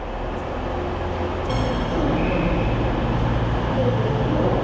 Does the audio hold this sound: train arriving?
yes